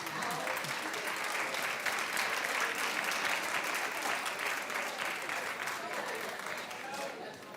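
A studio audience claps steadily and densely throughout, a broad wash of applause that tapers slightly toward the end, with faint voices underneath.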